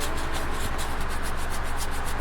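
Quick, regular sanding strokes rasp over filled putty on a 1:350-scale plastic Enterprise Refit hull, close and steady with an even rhythm and no voices.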